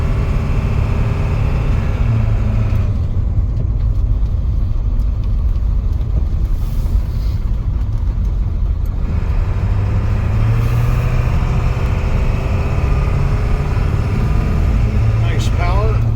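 A 1996 Ford F350 4x4 pickup with the 7.3 Power Stroke diesel runs up through its gears, a loud continuous low rumble rising and falling between shifts.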